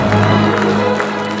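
Applause from a crowd at a Korean election campaign committee launch event, welcoming the campaign committee chairs; steady, dense clapping fills the hall for the whole moment without a break.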